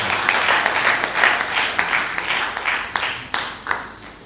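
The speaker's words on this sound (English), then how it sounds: "Shall we give him another round of applause?" An indoor university workshop audience gives a speaker a round of applause: dense, steady clapping that thins toward the end into a few louder, separate claps.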